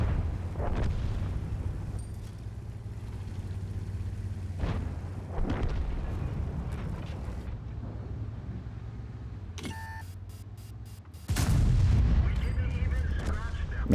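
A Jagdpanzer E 100 tank destroyer's cannon fires in World of Tanks, several heavy booming shots with rumbling tails over a low engine drone, a beep near the end, and someone talking over the gameplay.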